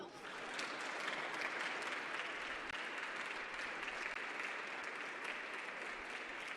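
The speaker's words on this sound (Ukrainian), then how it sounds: "А коли у залі з'явився Володимир Зеленський, запанувала тиша, яку перервали оплески." Steady, sustained applause fills a hall at an EU leaders' summit in Brussels as the Ukrainian president enters. The clapping is dense and even, heard from some distance with no speech on top.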